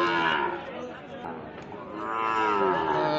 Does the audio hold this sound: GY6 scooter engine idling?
no